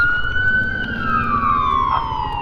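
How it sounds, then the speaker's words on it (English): An ambulance siren wails while police vehicles gather on an icy road, its pitch sliding in a long, loud tone over a low rumble of road noise from a moving car. "Oh, there's an ambulance coming."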